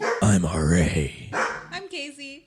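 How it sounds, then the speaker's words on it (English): A dog barks and yips a few times, close by, under and between people speaking introductions. "That's a dog."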